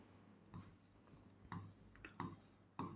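A pen or chalk scratches out writing during a maths lesson, quiet strokes coming in several short bursts.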